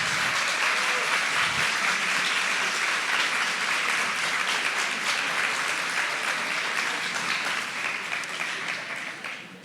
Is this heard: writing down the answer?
no